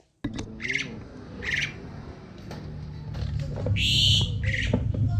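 Several caged songbirds, including jalak suren (pied mynas), ketilang and kenari (canaries), squawk and chirp in short bright bursts, some overlapping, over a low murmur of background noise.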